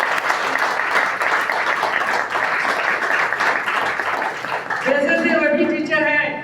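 An audience claps loudly and steadily for several seconds in a hall, honouring a guest named Santosh Gaur, then the clapping gives way to a voice speaking near the end.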